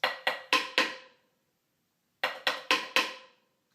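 Two bursts of four sharp snare-like drum hits from a cadence played without the left hand, evenly spaced and accented, separated by a second of silence.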